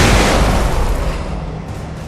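Gunfire in Alan Wake, a loud burst of shots at the start that decays into a rumbling tail and fades over two seconds.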